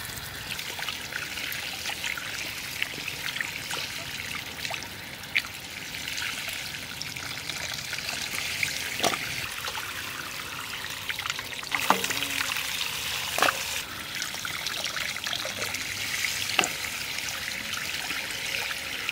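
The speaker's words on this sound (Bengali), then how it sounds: "যাই কুমড়োটা ভালো করে ধুয়ে নিয়ে আসি।" Water runs in a steady trickle while a large home-grown pumpkin, about 8.5 kg, is washed, with a few faint knocks and splashes over the continuous flow and no talking.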